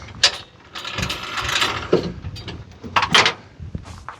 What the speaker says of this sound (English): this goes to your torch, and then, yeah, it ratchets out